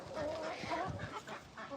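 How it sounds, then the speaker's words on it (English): Small young chickens at a farm animal sanctuary cluck and chirp softly and continuously, fairly quiet and close. "Look at these little chickens."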